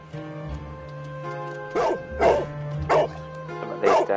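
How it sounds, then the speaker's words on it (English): A dog in the video game Sherlock Holmes The Devil's Daughter barks four times in a steady rhythm, near and fairly loud, over a low droning game soundtrack. "Oh, this dog's funny."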